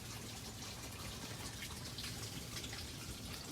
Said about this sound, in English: It's wet because rain is hitting it from the side there.